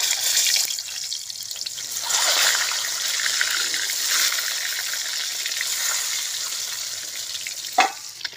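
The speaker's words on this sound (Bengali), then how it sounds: "এবার ডিমগুলো আমি দিয়ে দেবো তেলে।" Eggs frying in white oil with a little turmeric in a home kitchen, a continuous close sizzle with fluctuating crackle and a brief sharp clatter near the end.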